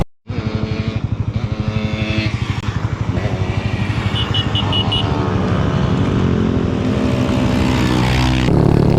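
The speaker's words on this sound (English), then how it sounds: "So in front of me I've got a Honda C50, then there's a Honda CT110, and then in front of that there's a Yamaha MX" Several small motorcycles ride together, a Honda C50 Cub, a Honda CT110 and a little Yamaha MX tracker, their engines buzzing loud and close with steady revving throughout.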